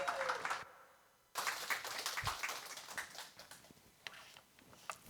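A seminar audience of parents claps to welcome a speaker at a lecture, scattered applause that dips briefly and then swells into steady clapping that gradually thins out.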